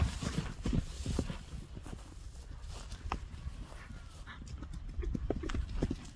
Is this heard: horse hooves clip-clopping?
yes